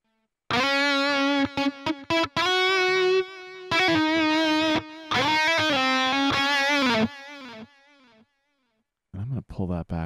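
An electric guitar is played through a Line 6 Helix Recto amp patch with a simple delay. It sounds heavily distorted and buzzy, with sustained notes and short chugs, and the last note cuts off before a few brief stabs.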